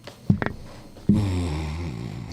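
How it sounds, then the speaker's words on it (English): A single snore-like snort from a person, a rough low rattling breath that swells briefly and then trails into a sustained nasal drone, fairly close and moderately loud with no talk. "Did you snore?"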